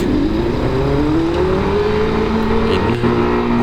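Yamaha NMAX 155 scooter with an aftermarket four-cylinder-style exhaust, a loud, steady engine drone with a slowly rising pitch as it revs, heard up close with someone talking over it.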